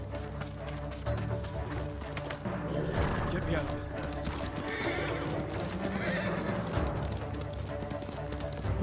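Horse neighing and whinnying in Ghost of Tsushima, with hoof clip-clops, over continuous game music and action noise; loud and mixed in with other sounds.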